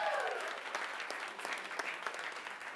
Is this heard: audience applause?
yes